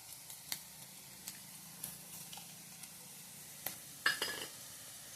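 Black pepper, cumin seeds and raw rice frying in hot oil in a pan: a quiet steady sizzle with occasional soft spoon clinks and scrapes from stirring, heard alone.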